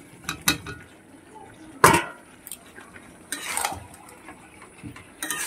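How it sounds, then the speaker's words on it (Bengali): Fried potatoes tipped into a pan of chicken gravy for dum chicken, heard as a few sharp metallic clinks and scrapes of a utensil against the pan with a soft wet shuffle between them, close and moderately loud, with no voices. "এবার ভেজে রাখা আলুগুলোকে দিয়ে দিচ্ছি।"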